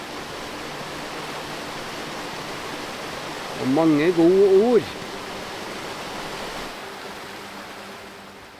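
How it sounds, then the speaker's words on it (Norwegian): A babbling mountain brook at a Norwegian summer farm gives a steady, broad rushing hiss throughout, with a short spoken phrase briefly over it. "lyden av bekken som vi er omgitt av her på Setra"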